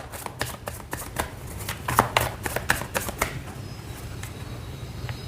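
Tarot cards are handled and shuffled in a series of quick papery riffs and slaps, close and fairly soft, with bursts clustered in the first three seconds before tapering off.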